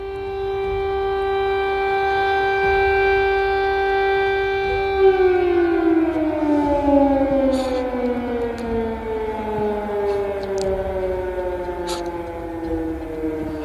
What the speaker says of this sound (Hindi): जिस तरीके से सन्नाटे को चीरते हुए ये सायरन्स की आवाज आ रही है